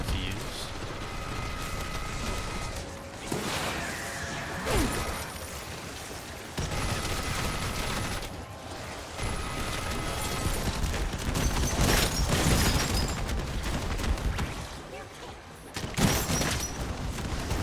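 Rocket launcher and grenade launcher fire in Dead Ops Arcade 4, a run of booms and bursty blasts mixed with arcade game tones and mechanical clatter, moderately loud and steady, with occasional speech over the action.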